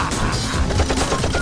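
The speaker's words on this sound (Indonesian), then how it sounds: "Wow, dia menembak kita guys." In a Roblox game, a robot police enemy fires a rapid burst of gunfire, a dense rattle of quick shots lasting under two seconds.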